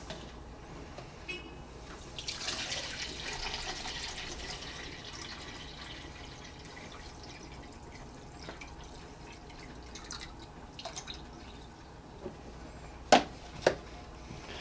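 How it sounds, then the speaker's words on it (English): Water poured into a container of Korean cucumber pickles, a soft steady splashing fill in the early part, followed by quiet drips and two sharp clinks near the end. "So I'm going to put water in here"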